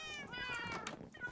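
A crowd of cats meows in the video game Minecraft, several quick, high overlapping mews in succession with light talking underneath.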